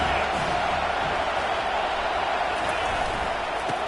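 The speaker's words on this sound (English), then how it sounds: "This crowd bringing the energy and noise early." Broad, continuous roar of a large crowd in a stadium at a football game, a dense wash of noise without distinct cheers or applause.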